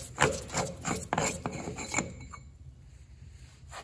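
Removing a loosened front wheel bearing cap on an Allis Chalmers D17 tractor: close scraping and rubbing metal sounds in quick strokes, fading to quiet after about two seconds.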